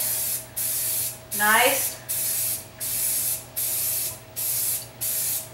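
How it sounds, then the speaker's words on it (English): Aerosol spray paint hissing onto cardboard in seven evenly spaced bursts of about half a second each, close and loud, with a brief spoken word between bursts. "I always like to spray on my cardboard to see how the paint's going to come out."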